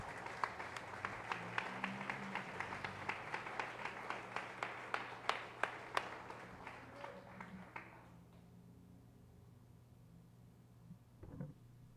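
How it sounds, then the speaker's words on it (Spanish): A church congregation applauds during an evening Spanish-language service in Medellín, Colombia. The sustained clapping is fairly distant and soft and fades out after about eight seconds. "Vamos a darle un aplauso a Cristo."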